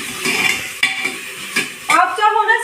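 Peas sizzle and fry in a pan on a home stove while a spoon scrapes and stirs them in several short bursts, loud and close.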